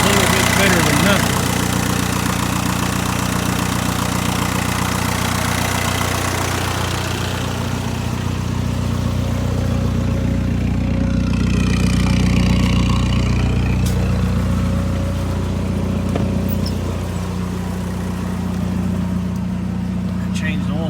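A 2003 Volkswagen Jetta with the ALH TDI diesel engine idles loudly and steadily nearby, a constant low clattering rumble, while someone talks over it.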